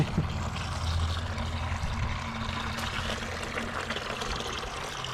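Liquid pours steadily into a bucket, a continuous rushing, splashing stream heard close up from start to finish.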